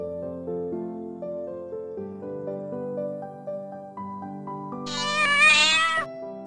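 A domestic cat gives a clear, drawn-out meow near the end, sounding alone over soft background music.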